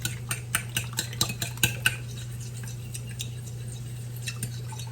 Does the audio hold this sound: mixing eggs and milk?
yes